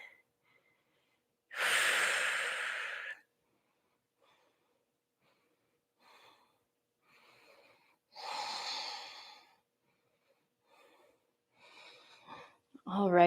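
Slow, deep breaths during a yoga pose in a power flow class, a few long airy inhales and exhales close to the mic with quiet gaps between them and a faint rustle near the end.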